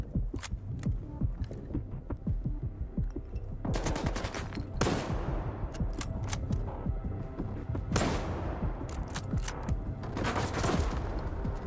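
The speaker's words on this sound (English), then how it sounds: "Trying to fire through the cover." Rapid gunfire in the video game Stalker 2, sustained bursts of automatic shots fired through cover, with sharp cracks and reverberating tails rolling continuously and loudly throughout, with no talking.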